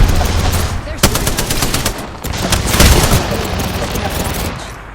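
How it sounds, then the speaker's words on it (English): Enemy gunfire in Apex Legends, a dense, loud stream of rapid automatic shots and sharp cracks that keeps on with few breaks for the full stretch, with game effects mixed in. "They're shooting"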